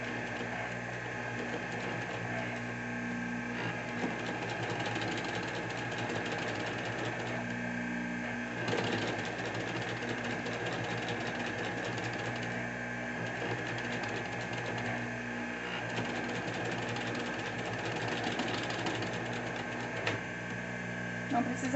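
A domestic sewing machine runs steadily, stitching a safety seam around the edge of a plastic-lined pocket on fabric for a waterproof piped toiletry bag, a continuous mechanical whir with a steady tone and slight rhythmic pulsing.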